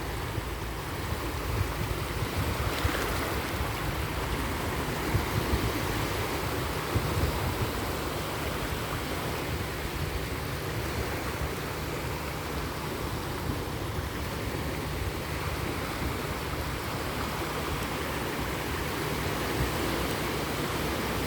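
Steady wash of sea waves rolling onto the shore at low tide in the evening in Hong Kong, a continuous broadband rush with gentle surges, no voices.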